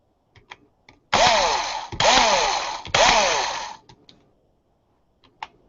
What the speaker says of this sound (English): I'm going to eyeball drilling through this thing.